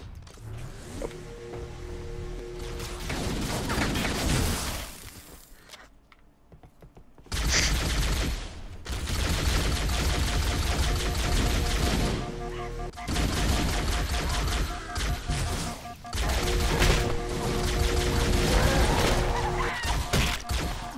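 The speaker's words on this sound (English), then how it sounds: "And run into the gunfire again." Loud bursts of rapid gunfire and crashing impacts from Halo: Combat Evolved Anniversary, with a brief quiet gap near the middle before the shooting resumes.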